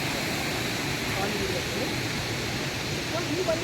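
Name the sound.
Sirimane Falls waterfall full in monsoon season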